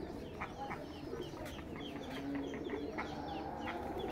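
Village poultry clucks and chatters in a continuous, fairly faint stream of short repeated calls from several birds nearby, with a soft background hum and no talk.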